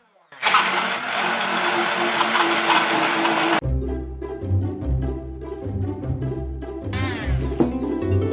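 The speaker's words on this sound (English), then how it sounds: "An immersion blender is the best tool for this job to get the texture fully smooth." An immersion blender whirs loudly through a cottage cheese lemon pudding mix with sweetener, starting as a dense roar, easing into a lower steady hum, then surging back to full roar near the end, with no talking.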